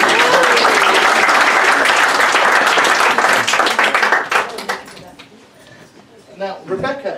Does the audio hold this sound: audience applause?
yes